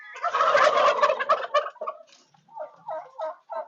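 Turkeys of the Jai Aen breed gobble loudly on a turkey farm: a long rattling burst up close, followed by several shorter, quieter gobbles.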